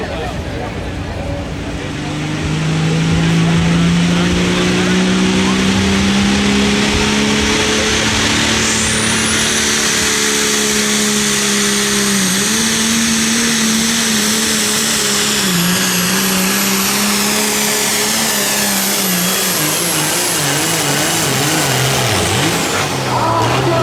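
A light-limited super stock or hot farm pulling tractor roars at a tractor pull in Burlington, loud and sustained as the engine climbs and holds high revs with turbo whine, under a distant crowd murmur.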